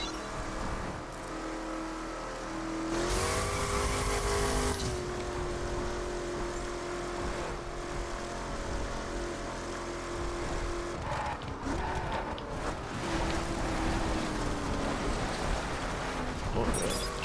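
Car driven in The Crew on PS4, engine drone rising and falling with revs and a sudden loud surge early on, a steady game-sound bed throughout.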